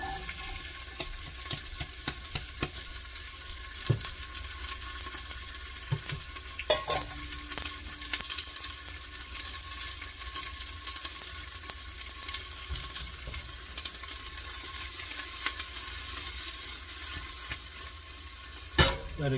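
Onions cook in a soup pot for a creamy asparagus soup, a soft, steady sizzle running throughout with occasional scraping stirs and clinks, fairly quiet and unbroken by talk.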